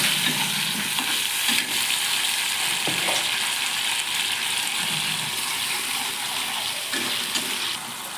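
Cumin, cinnamon, bay leaf and small tomatoes fry in oil in a wok with a loud, steady sizzle, broken by a few stirring clanks and scrapes, close up and without talk.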